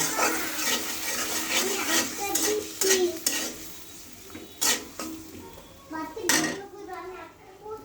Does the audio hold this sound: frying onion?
yes